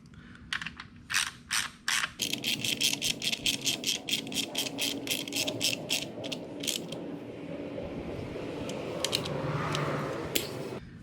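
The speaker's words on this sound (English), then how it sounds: "then proceed with the ratchet" Hand ratchet clicking as it tightens screws on a radiator cover of a 2021 Yamaha MT09, close and crisp in quick regular runs of clicks, then giving way to quieter handling.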